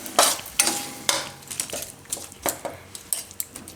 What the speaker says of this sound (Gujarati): અને થોડીક વાર આપણે ફેરવી લે હું ગોળને